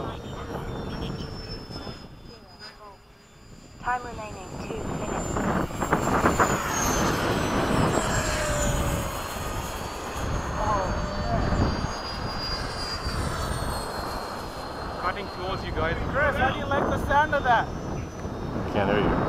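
An FMS F/A-18 radio-controlled model jet makes fast passes at a flying field, its ducted-fan whine rising and falling loudly and continuously while people talk nearby.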